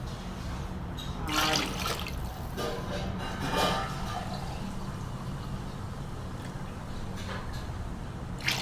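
Water poured into a pot for mutton biryani with seeraga samba rice, splashing pours in short bursts over a quiet kitchen background.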